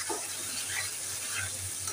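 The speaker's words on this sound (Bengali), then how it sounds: "এবার এটাকে ভালো করে কষিয়ে নিই।" Broiler chicken masala with chopped tomatoes being stirred and sautéed in a pan, a soft steady sizzle with light scraping strokes of the spoon throughout, close and fairly quiet with no talk.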